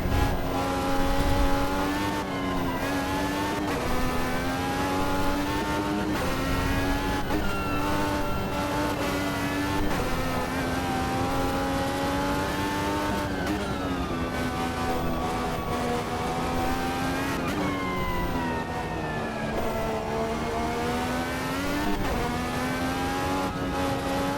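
Indy car engine in the racing game Automobilista 2, a continuous loud high-pitched drone whose pitch rises and dips as the throttle is worked while the car drifts wide, with no break in the sound.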